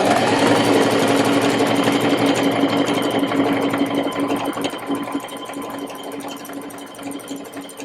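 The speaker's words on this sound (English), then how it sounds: "just put that needle down, do a stitch with the hand wheel, and then come across" A sewing machine stitches a waistcoat seam with a close, loud, even mechanical whir and rapid needle rhythm that slowly eases in level toward the end, with no speech.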